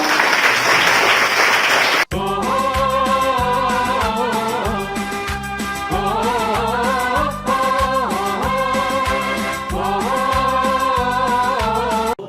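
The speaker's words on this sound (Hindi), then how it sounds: "सभी पूजन के साथ ताली बजाएं" An audience at an inter-school cultural competition claps briefly for about two seconds before loud rhythmic music cuts in and plays to the end.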